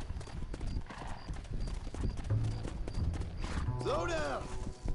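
Rapid galloping hoofbeats drum steadily up close in Red Dead Redemption, with a horse whinnying partway through and game sound effects layered over the clatter.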